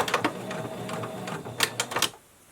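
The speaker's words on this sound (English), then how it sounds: "I'm going to sew straight across on the diagonal." A sewing machine back tacking on a fabric face mask, short uneven bursts of rapid needle taps close by, ending in a brief quiet pause.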